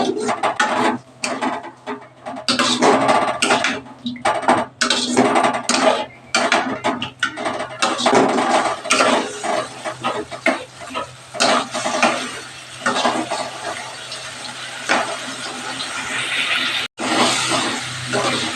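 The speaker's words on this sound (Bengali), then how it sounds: "এইবার আবার ভালো করে কষিয়ে নেব।" Lentil and potato fritters being stir-fried in a pan with soaked ground spices, a spatula scraping and clattering in an irregular rhythm over a steady close sizzle, with no talking.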